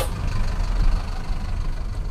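A 1999 Mercedes-Benz A160 engine idles steadily up close, a continuous low rumble with no talk over it.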